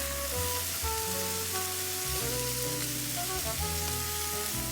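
Minced garlic and caramelized vegetables sizzling in a pan for cream of mushroom soup, a steady close frying hiss with faint scraping, no voices.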